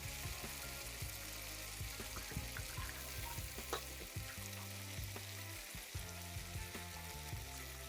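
Potatoes and meat frying together in a pan, a continuous close sizzle with occasional stirring and scraping sounds throughout, no voices.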